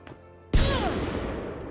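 A cannon shield enemy fires in a video game: after a short quiet stretch, a sudden loud blast booms out, then a long rumbling tail with whistling, descending streaks trails off gradually.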